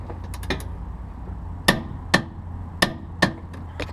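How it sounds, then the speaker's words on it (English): Wrench clicks while the last bolt of a Whiteline 24mm rear sway bar is torqued down; four or five sharp, close metallic ticks spaced about half a second apart, with faint quieter clicks before them and no voices. "This is the last bolt that I have to torque."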